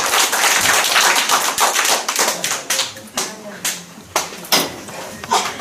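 An audience applauds a lecturer being welcomed to a lecture, with a burst of clapping from a room of people that thins into scattered, separate claps and taps toward the end.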